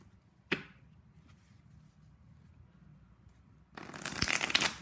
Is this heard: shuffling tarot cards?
yes